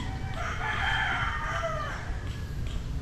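A white hatch gamecock rooster from a game farm crows in a single drawn-out call, moderately near and clear over steady low background noise, with no talk.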